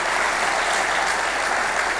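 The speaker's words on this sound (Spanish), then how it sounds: "Fuertes aplausos al Señor" A church congregation applauding during a worship service, a dense, continuous wash of many hands clapping at once, steady and full throughout.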